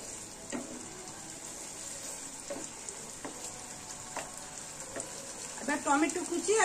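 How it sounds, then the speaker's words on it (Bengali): Chicken frying in a pan for chicken do pyaza: a continuous hiss of sizzling oil broken by scraping stirs, growing louder and more agitated toward the end. "এবার একটু ভালো করে এটা ভেজে নিই।"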